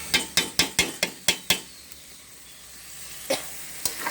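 About two kilograms of meat with spices in a pot: a quick run of seven sharp metallic knocks, then a soft, low sizzle with a couple of lighter taps.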